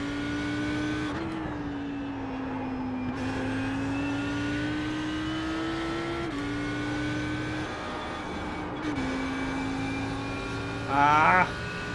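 A race car engine in iRacing at Zandvoort, a loud steady drone that rises and dips through gear changes and throttle lifts, ending in a short burst of higher revving.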